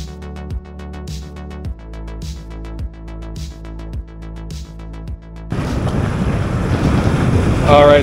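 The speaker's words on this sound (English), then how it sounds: "we'll see what we can get here on this really windy day once again" Strong wind buffets and roars across the microphone while fishing in Thailand, growing louder and more turbulent in the second half, with rhythmic knocking earlier on.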